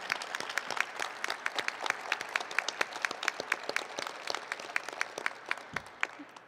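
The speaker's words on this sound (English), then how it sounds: "let's give everyone a huge round of applause for being here tonight" Applause at a civic awards ceremony, a thin crowd of distinct individual claps in an uneven patter, moderately near and fairly quiet throughout with no voices over it.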